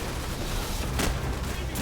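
Dense gunfire and explosive bursts in Call of Duty 4, with RPG fire nearby, crackling steadily and loud throughout, alone without talk.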